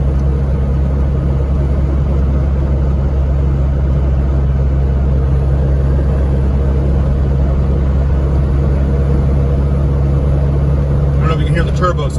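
A 1990 Range Rover Classic with a turbo, driving on the road, with a loud steady engine drone and heavy low rumble filling the cabin, and a faint rising turbo whine under the roar.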